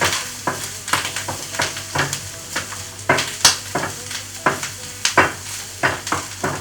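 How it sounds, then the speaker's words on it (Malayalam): Cooked chickpeas with grated coconut are stirred in a sizzling pan, giving quick, regular spatula scrapes and taps about twice a second over a steady frying hiss, close and without talk. "ഒന്ന് ഇളക്കി കൊടുക്കാം"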